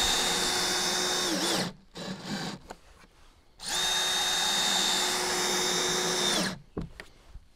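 A power drill drives screws into prefabricated sandwich panels during small building construction, two long loud whirring runs that wind down, separated by brief pauses with faint handling noise and no speech.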